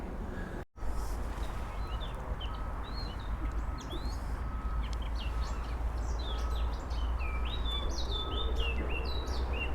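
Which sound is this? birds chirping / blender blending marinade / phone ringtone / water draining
birds chirping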